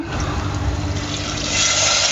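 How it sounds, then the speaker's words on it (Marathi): Water pours steadily into a pot over a wood-fired stove while cooking drumstick curry, a continuous close splashing rush that grows slightly louder toward the end. "पाणी वत्ते बघा"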